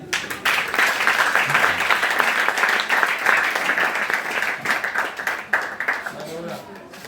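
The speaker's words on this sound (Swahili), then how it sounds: "Yesu makofi." A church congregation applauds during a Sunday service, a dense, steady burst of clapping that fills the room for several seconds, with voices mixed in before it fades near the end.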